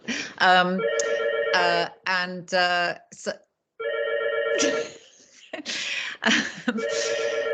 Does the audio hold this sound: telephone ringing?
yes